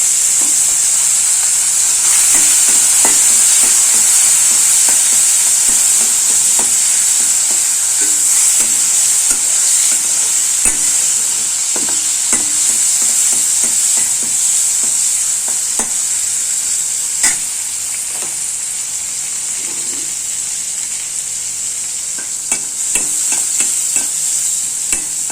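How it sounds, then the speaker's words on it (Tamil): Sun-dried mithakku vaththal fries in sesame oil, a loud, steady close sizzle and hiss with frequent light stirring clicks and scrapes throughout. "மெதுக்கவத்தலை வறுத்து வச்சுக்கலாங்க"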